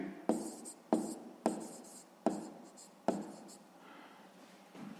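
A hand writing a sixth-grade math answer, five scratchy pen or chalk strokes in an uneven rhythm, close and distinct, with faint speech in the room.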